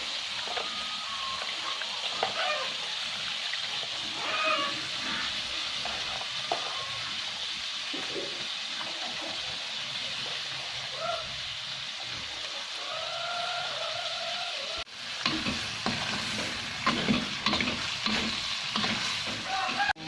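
Oysters stir-fried with spring onions and green chili, Aceh style, hiss steadily in a pan under repeated stirring and scraping. The sizzle grows louder and more clattery partway through.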